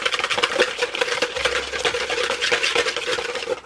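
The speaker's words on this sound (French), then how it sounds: "Là, c'est juste pour mélanger un peu." A mixture being stirred in a bowl with a utensil, a steady rapid scraping and swishing rhythm that stays close and continuous without any talk.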